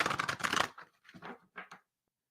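Tarot cards are shuffled by hand, a dense, papery riffle and flutter that starts loud, then breaks into a few softer, shorter shuffles before stopping.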